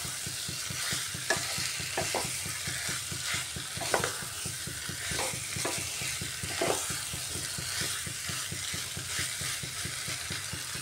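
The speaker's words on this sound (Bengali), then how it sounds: "ভালোভাবে কষিয়ে নিয়েছি, মশলাটাও খুব সুন্দর লেগে গেছে আলুর সাথে। দেখুন কড়াই থেকে ছেড়ে ছেড়ে আসছে মশলাটা" Potatoes coated in spice paste are sautéed and stirred in a wok, giving a steady sizzle broken by a rhythmic run of scraping strokes from the spoon against the pan. The sound is close and continuous, with no talking.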